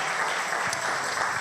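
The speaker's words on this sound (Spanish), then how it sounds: "Vamos, dale ofrenda y aplauso al Señor." Congregation applause in a Spanish-language church service, a brief, continuous wash of clapping from a group at moderate volume, steady with no pauses.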